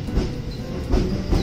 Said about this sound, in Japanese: 5番線に快速電車が入線してくると思えば普通電車でした。